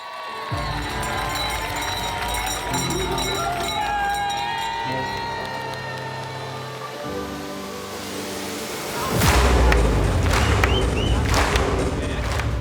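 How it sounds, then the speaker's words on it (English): A crowd at the UTMB 100-mile trail race start line in the Mont-Blanc area cheers amid a busy mix of voices and movement, swelling abruptly into a much louder roar near the end. "It is so loud at the start line. People are cheering and going crazy"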